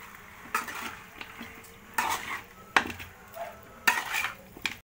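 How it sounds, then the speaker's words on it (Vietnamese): Duck with bamboo shoots is stir-fried in a pan, with about five sharp spatula scrapes and clatters at roughly one-second intervals over a low, steady sizzle. "Xào sơ nó qua cho nó thơm"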